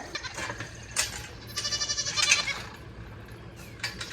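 Goats bleat faintly nearby, a wavering quavering cry in the middle of the clip over quiet outdoor background noise.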